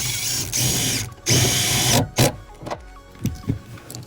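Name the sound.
power tool tightening upper shock mount bolt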